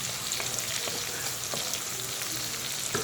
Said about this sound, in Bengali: আর হচ্ছে এখন দিয়ে দিলাম মেথি দানা আর পেঁয়াজ।